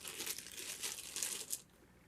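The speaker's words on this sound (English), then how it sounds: "You take any old plastic bag and a magnet." Any old plastic bag being crinkled up close while cleaning up dust during a Les Paul guitar rebuild, a few rustling bursts before it goes quiet.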